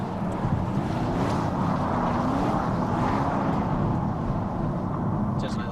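Ford GT engine roaring under acceleration as the car slides into a drift, a loud, steady, close-up rumble with wind buffeting, a voice running over it.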